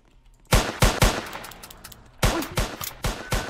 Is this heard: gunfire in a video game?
yes